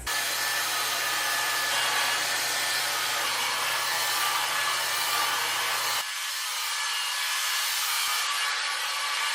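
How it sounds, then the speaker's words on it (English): A hair dryer blows steadily and loudly close by while short hair is styled, with a sudden change in its tone partway through, no voices. "and we're also gonna blow dry like this."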